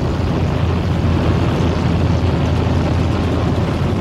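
A MiG-15 jet fighter hooking up to the hose of a refurbished Tu-4 bomber tanker in flight, a loud, steady broadband engine roar with no breaks or voices.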